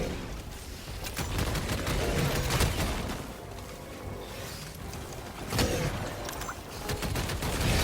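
Warrant weapon firing at chargers in the video game Helldivers 2: loud, dense gunfire and impacts with bursts and booms over rumbling battle noise, continuous throughout.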